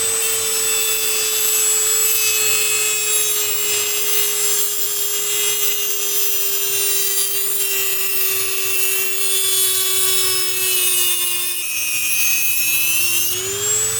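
A corded power tool scores a strip of metal lawn edging, giving a loud, continuous high-pitched whine that holds steady and then dips briefly near the end.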